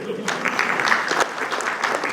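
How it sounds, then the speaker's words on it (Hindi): An auditorium full of students at a media school orientation claps for a judge, a brisk, loud burst of applause from a large crowd, with some voices and cheering mixed into the clapping. "देखिए जज साहब के लिए तालियां जोर से"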